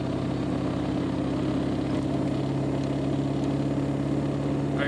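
A 7.3 Powerstroke diesel truck in fifth gear hauls a dozer uphill on the interstate, a steady loud drone of engine and road noise under strain, continuous and close with no talk.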